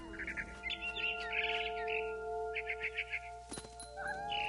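Short bursts of high barn swallow chirps in the video game What Remains of Edith Finch repeat over a steady tonal hum, fairly faint, with no voices.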